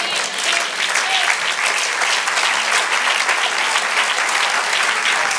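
A church congregation breaks into sustained, dense applause during a sermon, a steady wash of many hands clapping together at close range with no voices rising above it.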